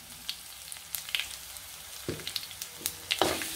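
Asafoetida drops into hot oil along with crushed curry leaves and garlic during tempering. Sharp crackles and pops burst over a soft sizzle, growing busier toward the end.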